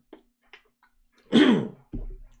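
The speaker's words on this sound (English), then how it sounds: "I'm seeming to get a decent little cough here." A single harsh cough bursts out, followed by a shorter throaty rasp, with faint breaths before it in an otherwise quiet room.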